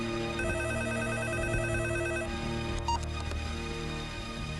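A telephone rings with a repeating electronic tone pattern, steady and fairly close, then stops abruptly with a few clicks afterward; no one speaks.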